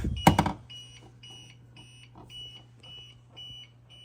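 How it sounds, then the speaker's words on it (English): UPS battery backup beeping as it runs low, a rhythmic series of high electronic beeps repeating about every half second after a loud handling thump, with a steady low hum underneath. "You can see it's beeping solid, which means it's about to die."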